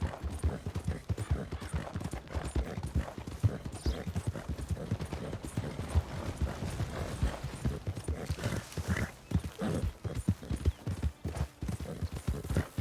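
In Red Dead Redemption 2, a horse's hooves clip-clop in a steady, close rhythm that runs throughout, with a brief snort-like sound midway.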